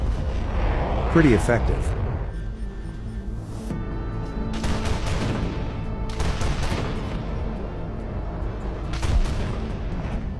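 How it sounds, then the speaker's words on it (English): Swedish LVK V9040C anti-aircraft tank autocannon firing proximity fuse shells in War Thunder, with several loud rapid bursts of heavy booming fire and crackling detonations, and a brief spoken comment over the shooting. "Swedish LVK V9040C. With proximity fuse shells. 5 destroyed in 2 seconds."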